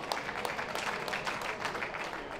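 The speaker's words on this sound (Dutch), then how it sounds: "Terecht met applaus, want dit was een aardige aanval." A football crowd at a Rijnsburgse Boys versus Koninklijke HFC match gives moderate, steady applause after an attacking move, heard from a distance as a continuous patter.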